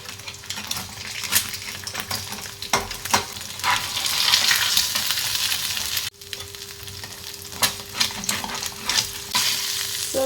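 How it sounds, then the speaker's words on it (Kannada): Four eggs seasoned with chilli powder and salt fry in a pan with a steady sizzle and crackle, broken by occasional scrapes and taps of a spatula against the metal, with a faint hum running underneath. "ಇಲ್ಲಿ 4 ಮೊಟ್ಟೆಯನ್ನು ಈ ರೀತಿ ಫ್ರೈ ಮಾಡಿಕೊಂಡೆ"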